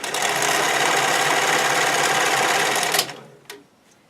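A sewing machine stitches elastic onto stretchy swimwear fabric in one loud, fast, steady run of about three seconds, then stops, followed by a couple of soft clicks.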